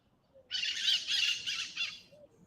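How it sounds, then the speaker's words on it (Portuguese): Several birds squawk and chirp outdoors in a loud, dense burst lasting about a second and a half, rising abruptly from quiet background hum and then tapering off, with no talking. "Tá cheio de pássaro aqui também."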